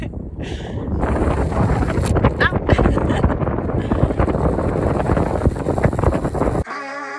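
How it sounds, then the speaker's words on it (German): Strong gusty wind buffets the microphone on a mountain bike tour in the Zillertal near the Pfitscher Joch, a loud, continuous roaring rumble that persists for several seconds before cutting off abruptly. "Also hier hat es mal wieder mehr als genug Wind."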